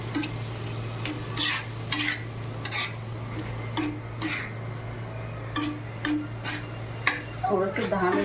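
Pav bhaji is stirred in a pan at home with repeated metal-on-pan scrapes and clinks in an uneven rhythm over a faint sizzle and a constant low hum, with a brief voice near the end.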